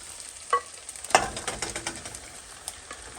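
Shrimp tossed into a hot pan with sauce set off a quick burst of sizzling and scraping stir sounds, followed by soft spoon clinks and a light ongoing fry, all close and without talk.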